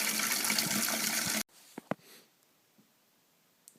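Water gushing from a tap into a container, a loud steady rush that cuts off abruptly, followed by a few faint drips and knocks in near silence.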